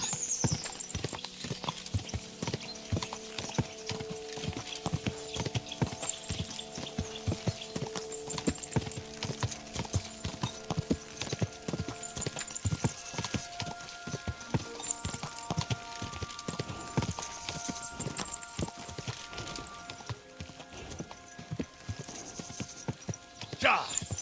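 Repeated horse hoofbeats from the video game Kingdom Come: Deliverance II clop along in a steady trotting rhythm, with occasional whinnies and tonal game-like sounds layered over the scene.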